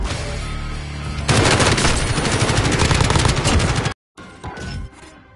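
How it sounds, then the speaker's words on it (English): Rapid automatic gunfire from the Warzone video game, loud bursts and sustained rattling shots that cut out briefly near the end before a few more shots resume. "They're shooting."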